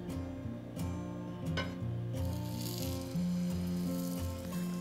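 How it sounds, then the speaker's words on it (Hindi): A slice of bread dipped in besan batter sizzles in a pan with a steady, close frying hiss throughout. Soft tonal background music plays underneath. "और इसे मैं डाल दूंगी पैन पे।"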